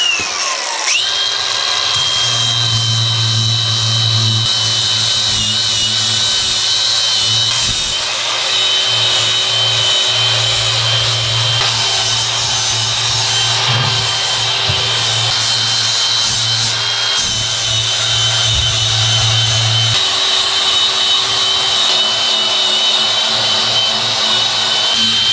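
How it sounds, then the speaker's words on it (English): An angle grinder runs steadily and loud for the whole stretch, cutting through a wall for a wood stove chimney installation with DuraVent DVL pipe and DuraPlus chimney, holding a continuous whine with slight dips in load. "let's get the grinder out and let's get to grinding"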